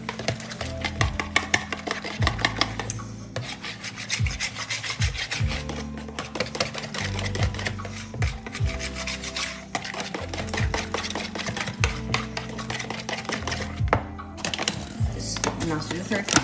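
Flour is stirred into French bread dough by hand, giving continuous close scraping and rubbing strokes in an uneven rhythm while a person talks.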